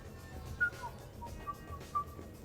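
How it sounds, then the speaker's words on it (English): A character in Mass Effect 3 whistles a faint, wavering tune in short notes over a quiet, low background hum. "Are you whistling?"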